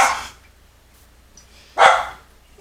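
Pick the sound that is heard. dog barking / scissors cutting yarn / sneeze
dog barking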